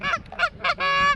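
Canada geese honking during a rainy hunt in Nebraska: four loud, nasal honks close by, three short calls followed by one longer drawn-out honk, with no talk.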